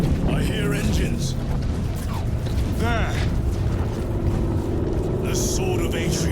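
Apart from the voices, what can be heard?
engines approaching in video game Warhammer 40k: Space Marine 2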